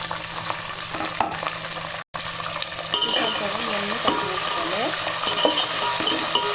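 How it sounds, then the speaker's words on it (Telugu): Chopped green chilies frying in a pan of oil for lemon rice, a constant close sizzle with stirring and scraping of a spoon against the pan, briefly cut off once before resuming. "ఇప్పుడు అంటే దరిదాపు ఒక 20 పచ్చిమిరపకాయలు సన్నగా కట్ చేసుకుని వేసుకోవాలి."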